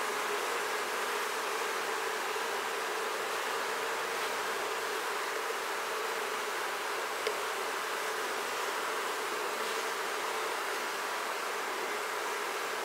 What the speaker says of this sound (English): you'll learn to hear what that queenless roar sounds like